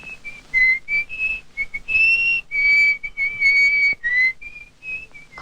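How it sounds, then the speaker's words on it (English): A tuneful whistled melody, clear and close, with short phrases broken by brief pauses, heard alone. "I don't play at all, but sometimes I whistle."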